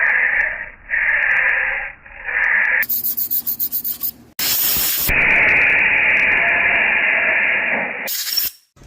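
Bursts of harsh hissing spray cleaning out a Vortec cylinder head after a crack repair, some steady and some sputtering in short pulses, with long continuous blasts and abrupt stops between them, loud and close.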